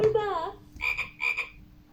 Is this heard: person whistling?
no